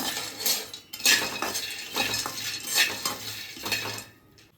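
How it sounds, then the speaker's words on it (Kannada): Peanuts roasted in a pan, stirred with a metal spatula: a rhythmic run of close scraping and clinking strokes over a faint dry sizzle. "1 ಬೌಲಷ್ಟು ಕಡಲೆ ಬೀಜನ ಹುರ್ಕೊಂಡ್ಬಿಡೋಣ. ಒಂದು ಸ್ವಲ್ಪ ಫ್ರೈ ಆದರೆ ಸಾಕಿದ್ದು."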